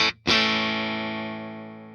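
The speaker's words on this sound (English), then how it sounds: "So how's it go with some distortion?" A Squier Hello Kitty Stratocaster, a 2024 50th Anniversary model, played through distortion with its stock pickup: a brief choked note, then one loud, thick distorted chord that rings out and slowly decays, with no voice.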